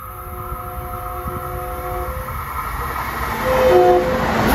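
A Long Island Rail Road commuter train bound from Ronkonkoma to Penn Station rolls past Pinelawn with a steady roar that swells toward the end, with tonal horn or brake notes sounding over the rumble.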